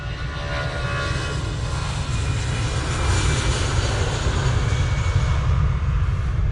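An EasyJet airliner at Manchester Airport produces a steady, loud jet-engine roar that swells slightly partway through and holds as a continuous broadband rumble with no talking.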